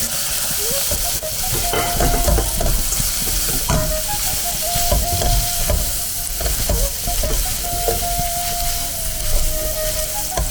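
Chicken 65 being tossed with soy sauce in a hot pan, loud continuous sizzling and hissing steam with repeated stirring scrapes and occasional clanks, close and without talk.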